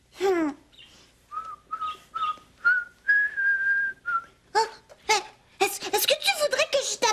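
A person whistles a series of short and held tones, fairly close, framed by vocal sounds at the start and end.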